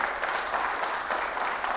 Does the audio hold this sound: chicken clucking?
no